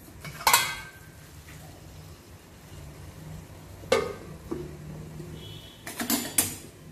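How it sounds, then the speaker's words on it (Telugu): A metal lid set on a pan of ridge gourd curry, with a sharp clatter near the start and more clinks of metal and cookware later, close by over a low background hum. "కొంచెంసేపు అలాగా మూత పెట్టేద్దాం"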